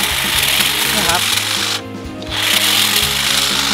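An iMAX IMHT-001GT cordless hedge trimmer cuts small branches on a thorny bush, a loud buzzing motor with a rapid chattering blade that dips briefly midway then resumes.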